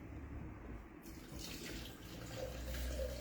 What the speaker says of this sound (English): Now let me get myself a glass of water now.